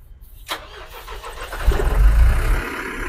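A Tata Ultra truck engine is turned over with its self-starter. A short burst of cranking comes first, then the engine catches and settles into a loud, rough, rising idle close by.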